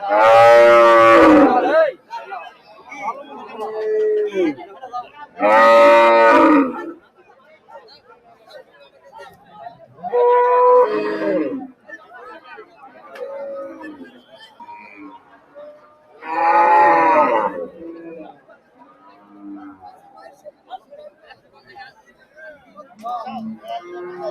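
Cattle at a livestock market before the Eid sacrifice moo in several loud, drawn-out calls spaced a few seconds apart, with a crowd's chatter and nearby talk filling the gaps between them.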